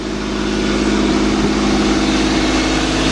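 Idling 2.7-litre engine of a 2005 Chrysler 300 that has an overheating problem, a steady, loud, continuous hum heard up close with no voices.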